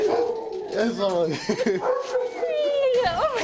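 Many dogs bark, yip and whine together in an animal shelter full of cages, a loud, echoing, overlapping chorus with a high howl near the end.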